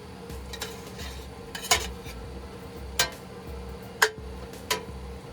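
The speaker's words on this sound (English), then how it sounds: "That browning meat smells delicious." Ground meat browning for chili in a pan at a campsite, a soft steady sizzle running underneath with a few sharp utensil clicks scraping the pan at intervals, close and moderately quiet.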